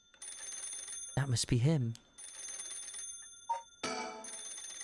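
A telephone rings inside a horror video game, a shrill electronic trill in short bursts over a steady background hum, with someone speaking briefly between the rings.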